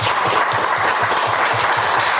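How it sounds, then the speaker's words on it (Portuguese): A church congregation claps together, a dense, steady wash of applause with a regular rhythmic beat running through it, loud and continuous with no speech over it. "Vamos aplaudir Jesus bem bonito"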